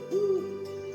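An owl hoots at night as a steady, low tonal call that swells near the start and then holds faintly, close and clear.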